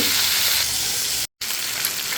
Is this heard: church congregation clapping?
no